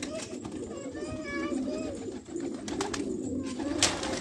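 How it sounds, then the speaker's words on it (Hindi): Pigeons coo softly and repeatedly against a steady background murmur, with a few brief higher chirps and noises near the end. "तारिक भाई ने कबूतर पकड़ा है"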